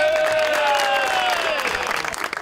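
Studio audience applause on a Pakistani TV comedy show set, a broad steady wash of clapping that fills the clip and starts to thin toward the end.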